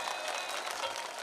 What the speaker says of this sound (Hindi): एक तालियां तो बनती हैं आपकी तरफ से।